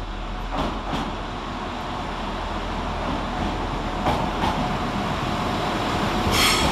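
Northern class 195 unit 195025, a northern service from Leeds, arrives at Nottingham station with a loud, steady rumble of wheels, brief squeals and rail clicks.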